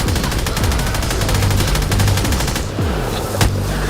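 Rapid automatic gunfire from an infinite-ammo weapon in a Black Ops 3 custom zombies map, a steady loud stream of shots that cuts off near the end with a few trailing sounds.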